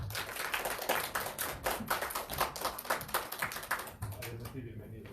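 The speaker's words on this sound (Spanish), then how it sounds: "Démosle un aplauso muy fuerte." A conference audience applauds steadily, a dense wash of many hands clapping at once that continues for several seconds before easing off.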